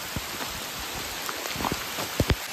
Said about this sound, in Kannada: ಫುಲ್ಲು ಮಳೆಗುರು, ಸಖತ್ತು ತಂಪು, ಮೈಯೆಲ್ಲ ತಂಪು ತಂಪು ಆಗ್ತಿದೆ.